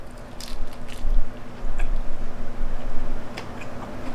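Close bites into crispy Hawaiian-style fried chicken from Joe's Grill Express, with several loud crunches and crackles followed by crunchy chewing in bursts.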